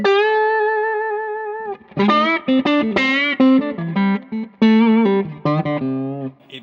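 An electric guitar, hybrid picked through a 633 Engineering X2 Classic Overdrive pedal, plays a sustained note, then a run of snappy, plucked notes and short bends, each attack crisp and biting.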